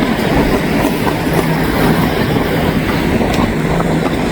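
A train rolls past on railway tracks in severe weather, a loud continuous rumble and rattle of wagons with no break.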